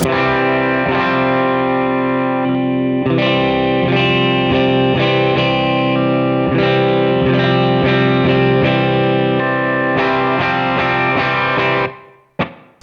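Clean electric guitar through an HX Stomp amp modeler with a dry, unprocessed tone, strummed chords and picked notes ringing steadily, then cut off abruptly near the end.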